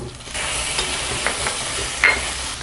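Tomato sautés with ginger garlic paste and onions in hot oil for chicken gravy, a steady close sizzle under repeated stirring scrapes, with a brief louder clink near the end.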